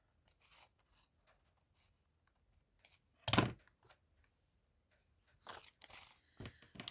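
Scissors trimming a piece of paper for a trash craft tabbed pocket, heard as a few quiet, scattered snips and crinkles, with one louder cut near the middle and a flurry of cuts toward the end.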